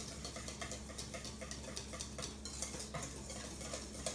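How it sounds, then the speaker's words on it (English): Whisk beating courgette muffin batter with melted butter in a big bowl, making a quiet, steady run of rapid scraping taps against the bowl with no talk. "give it a really good whisk so it's nicely combined"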